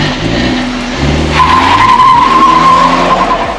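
A BMW 2 Series Gran Coupe makes a launch start in sport mode with traction control off, its tires squealing in a loud, sustained screech over the engine's rising roar, close by.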